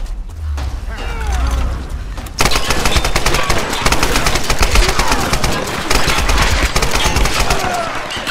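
Rapid automatic gunfire and heavy shots fill a Tomb Raider firefight, dense continuous bursts starting after a quieter opening and running loud and close to the end.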